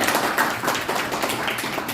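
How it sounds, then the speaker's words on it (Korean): An audience at a seminar applauds after a speaker is introduced, with scattered, uneven claps from a modest crowd heard at moderate loudness for a couple of seconds. "박수로 다시 한번 부탁드립니다"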